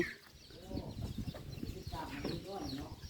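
Farm chickens cluck and chatter while feeding, with a steady flurry of soft clucks and a few louder calls close by, and someone talks over them in places.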